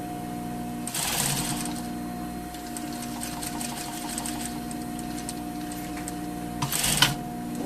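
A sewing machine stitches a garment seam near the bottom of a trouser crotch, running as a steady mechanical hum with quick bursts of fast needle clatter at the start and end.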